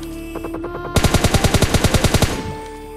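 G36 assault rifle fired in a squad shooter video game: a rapid automatic burst of about a dozen loud, evenly spaced shots lasting just over a second, set against a steady game background hum.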